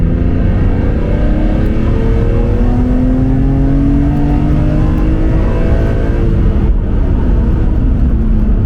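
A BMW CSL engine revs loudly and steadily, its pitch climbing and sliding in smooth sweeps with a deep airbox intake roar, close and continuous.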